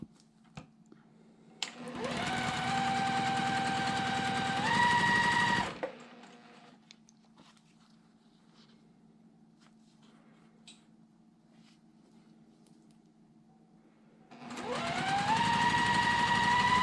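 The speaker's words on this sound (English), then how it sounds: "And we're going to go ahead and start sewing." A sewing machine stitches a quilt block in two bursts, a steady close whirring run of about four seconds that ends, then quiet handling before the motor starts again.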